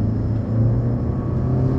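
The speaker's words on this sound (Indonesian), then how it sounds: "ada power mode yang bakal langsung bikin mobil ini akselerasinya lebih jambak" A car driven in power mode accelerates hard, its engine rumbling loud and steady with a low drone throughout, no voices over it.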